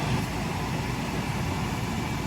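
An electric fan runs steadily close by in a kitchen where an egg and bacon sandwich is being made, its broad whooshing hum constant and fairly loud throughout with no talking.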